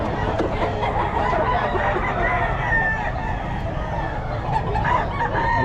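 Chickens being sold by a small-time poultry seller cluck and a rooster crows amid a dense, busy barnyard din, loud and continuous throughout with faint voices in the background.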